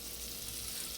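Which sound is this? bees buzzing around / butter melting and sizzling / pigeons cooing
butter melting and sizzling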